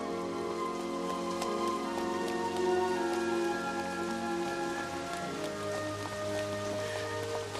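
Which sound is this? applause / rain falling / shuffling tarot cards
rain falling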